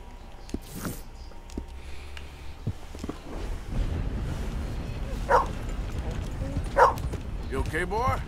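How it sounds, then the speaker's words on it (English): A dog in the Red Dead Redemption 2 video game gives a couple of short barks and whimpers amid footsteps and a low ambient rumble, with someone talking. "Hey, puppy dog."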